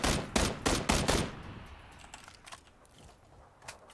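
A quick burst of PUBG gunfire, five or six sharp, loud shots in a fast rhythm, followed by fainter scattered distant shots and clinks as things quiet down.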